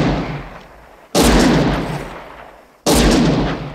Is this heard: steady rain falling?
no